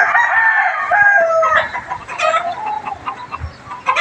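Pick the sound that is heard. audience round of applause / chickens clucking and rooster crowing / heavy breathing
chickens clucking and rooster crowing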